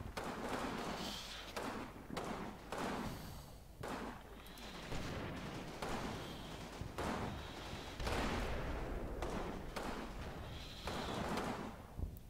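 Machine gun fire in the wargame Combat Mission, rattling in a series of bursts with heavy thuds, one after another, over a continuous battlefield rumble.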